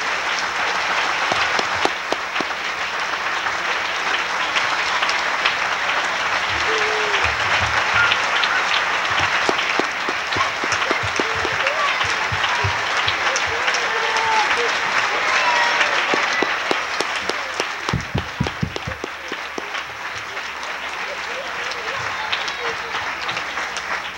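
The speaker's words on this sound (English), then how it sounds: "Would you applaud and praise God for what these people are doing?" Sustained applause from a church congregation fills the space for the whole stretch, dense and steady, with scattered voices and cheers mixed in before it thins slightly near the end.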